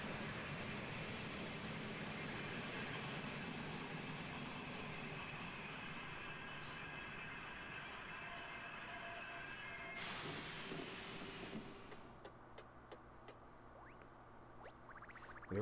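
Rumbling, rattling train ride from the video game Paper Mario: Color Splash, a steady loud rolling clatter of rail cars that eases and changes near the end as the train slows, with no talking.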